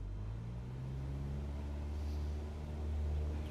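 A steady engine drone with a low tonal hum that swells slightly toward the end as a flight simulator aircraft runs at full power on its takeoff roll, with no voices.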